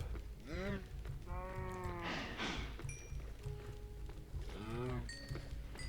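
Cows moo in the video game Minecraft, several drawn-out lowing calls spaced across a few seconds over a steady game background hum, with no talking.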